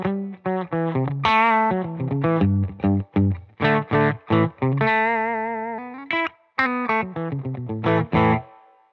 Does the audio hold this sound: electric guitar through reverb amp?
yes